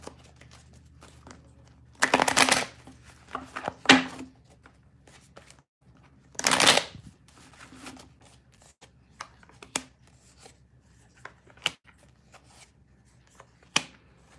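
Tarot cards are shuffled in a quiet indoor setting: two loud riffling bursts separated by a pause, followed by scattered soft taps and shuffles, with no talking.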